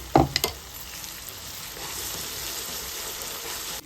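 Masala paste for a drumstick and cashew curry fries in hot oil, with a steady close sizzle after a few clattering stirring knocks at the start.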